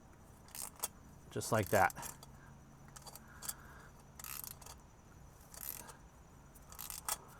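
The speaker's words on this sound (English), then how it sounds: "we're gonna just get the 3/8 ratchet, and we're just gonna snug it down" A 3/8 ratchet snugs down a bolt during service work on an Alfa Romeo Stelvio Veloce 2.0, with a close burst of sharp metallic clicks and scattered lighter taps; someone speaks briefly.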